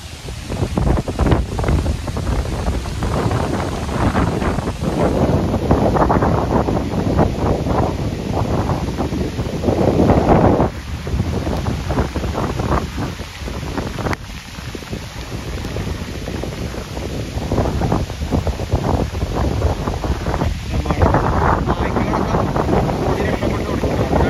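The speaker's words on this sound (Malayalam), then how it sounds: "നല്ല കാറ്റ് വരുന്നുണ്ട്, അടുത്ത മഴയ്ക്കുള്ള പുറപ്പാടാണ്" Strong sea wind buffeting the microphone on a coast as rain approaches, a loud continuous roar with gusting rumble and surf-like wash throughout, no voices.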